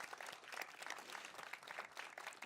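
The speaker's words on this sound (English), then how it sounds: "Let's give them a round of applause for amazing performance." Audience applause at a Memorial Day ceremony, a dense steady clatter of many hands clapping together for a couple of seconds, close and fairly loud with no voices over it.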